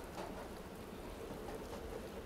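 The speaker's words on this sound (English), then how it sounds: "We're on the train. In the rain." Steady rain in the Roblox game Jailbreak, heard while riding atop a train: a constant, even wash of soft patter that stays at one level throughout, with no voices.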